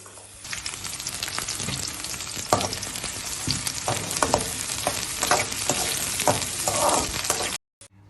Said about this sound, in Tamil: அதுக்கப்புறம் பூண்டை போட்டு வதக்கிக்கிறோம்